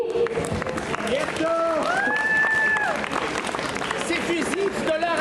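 Audience at a costume masquerade contest clapping for a contestant, steady applause filling the room while a host's voice speaks over it.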